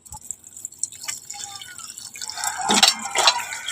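Cut pieces of snake fish washed by hand in water, with soft drips and splashes that grow louder and busier toward the end, no talking.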